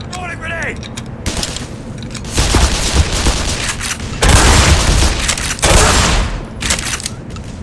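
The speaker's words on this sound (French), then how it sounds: "Throwing a grenade!" A grenade explosion in the first-person shooter Black Mesa booms loudly amid a chaotic fusillade of rapid gunfire, with heavy blasts recurring over several seconds.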